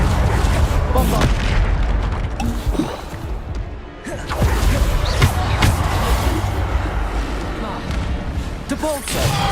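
Bombarda explosion spells going off in the game Hogwarts Legacy, a string of heavy booms and thuds over a dense, noisy battle, with a voice speaking between the blasts.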